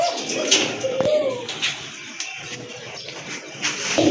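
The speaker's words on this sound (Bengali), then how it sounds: "এখানে কিন্তু এক জোড়া রেসার কবুতর দেখতে পাচ্ছেন" A pair of racer pigeons cooing, heard as soft, low, repeated coos against a busy background with faint rustling and other bird calls.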